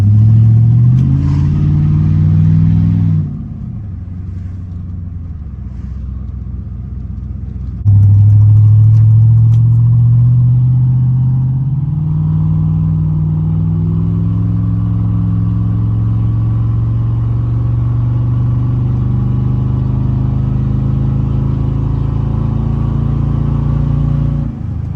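A 2003-06 Chevrolet Silverado truck engine runs close by, a steady low idle rising into several revs that hold and settle, loud and alone.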